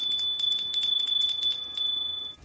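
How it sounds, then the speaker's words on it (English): A small bell rung to summon a servant gives a string of bright, clear dings in quick succession, ringing out alone for about two seconds. "let me ring the bell"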